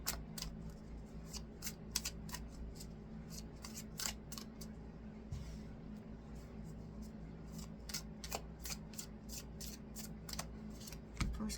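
Tarot cards are shuffled by hand in a quiet room, a rapid run of soft riffling flutters and slaps repeating close by, faint and without talk.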